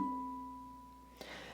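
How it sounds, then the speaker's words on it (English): A single ukulele harmonic rings on the last note of a love song, a pure bell-like tone decaying alone and quiet, cut by a brief soft noise near the end. "We have a harmonic"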